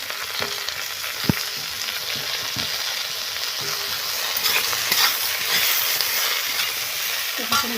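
Papaya pieces with Malabar spinach frying in a pan, a steady close sizzle with occasional stirring scrapes and clicks, no talking.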